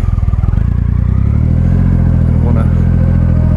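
Triumph Rocket III motorcycle engine idling with a loud, close, throbbing pulse at first, then revving up into a steady deep roar that holds to the end.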